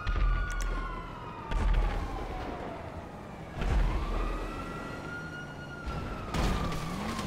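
A police car siren wails in Grand Theft Auto V, rising and falling steadily through the clip amid game engine rumble and a few loud thumps from impacts or explosions.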